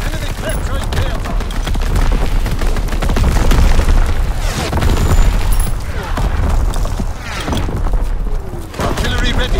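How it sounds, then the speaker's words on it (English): Airstrike explosions in Call of Duty: WWII, a multiplayer domination match, boom loudly amid dense rattling gunfire. Radio-style voices call out over the barrage for the whole stretch. "Fighter aircraft approaching target! Firing for full effect!"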